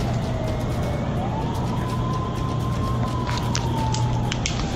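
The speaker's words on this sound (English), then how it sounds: "he hears an ambulance pull up to the defunct hospital" An ambulance siren wails outside a defunct hospital, a single steady rising-and-falling tone over a dense low rumble of engine and background noise, moderately distant and continuous throughout.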